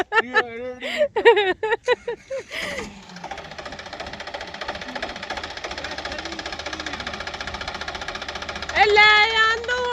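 Voices briefly at the start, then a tractor engine chugs steadily and loudly up close, its rapid knocking rhythm continuing to the end.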